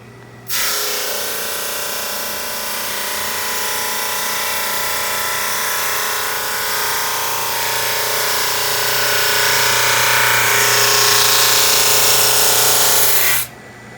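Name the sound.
SuperMax 25-50 drum sander sanding a light first pass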